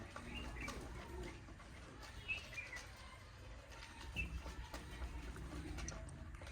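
Soft pigeon coos repeat at a distance over a steady low background hum, with occasional faint chirps and rustling; no one speaks.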